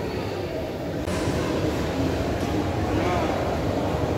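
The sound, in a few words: metro station with trains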